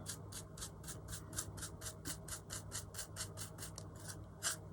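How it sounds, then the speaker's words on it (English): Sand being scraped away from a textured wall plate, heard as a steady run of about eighteen quick, even scratching strokes, close and fairly quiet, with no voices. "I'm just going to sort of scrape some of that sand away"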